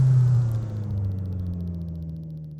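A race car engine in Assetto Corsa gives a deep, loud drone that settles into a lower, steadier rumble as the car slows, with no voices.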